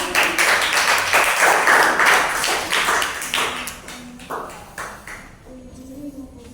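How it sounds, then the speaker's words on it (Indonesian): Classmates in an Indonesian classroom clap after a group presentation, a loud burst of close, overlapping claps that thins out and fades over several seconds, with a faint voice emerging as it dies away. "Tepuk tangannya"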